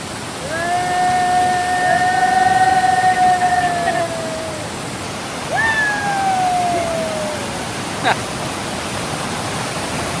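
The Bheli waterfall roars as a loud, steady broadband rush close by, while a long whistle-like tone rises and falls over it twice.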